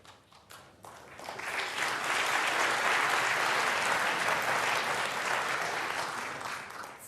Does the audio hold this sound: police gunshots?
no